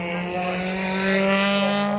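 A touring race car roars past at Snetterton, a loud rising engine note that swells and holds for a couple of seconds, close to the trackside listener.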